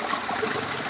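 A mountain stream in a valley flows in a constant broadband rush of water, close and fairly loud, with no talk over it.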